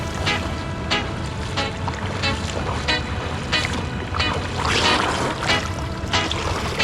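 Water splashes and sloshes as someone gets into a river pool at a luxury resort in Thailand, with irregular close splashes and a steady watery wash underneath and no talking.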